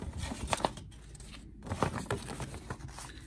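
Scissors snip through paper in a few quick, close cuts, with light rustling and crinkling between the strokes.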